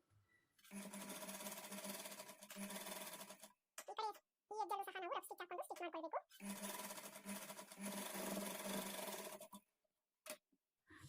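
A sewing machine stitches the side seam of a lined blouse in two long steady whirring runs, loud and close, with a pause between them where someone speaks and a short final burst after.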